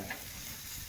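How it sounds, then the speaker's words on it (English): Food chunks sizzle in hot grease on a charcoal grill, a soft, continuous crackling hiss that stays even for a brief moment. "Cooking with hot grease"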